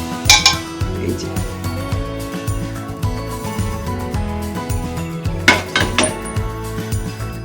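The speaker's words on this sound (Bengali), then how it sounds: "ঘিটা আমি বাটিতে ঢেলে নেব" Melted ghee poured from a pressure cooker into a bowl, heard as metallic clinks and scraping of pots and utensils alongside a steady low rhythmic background.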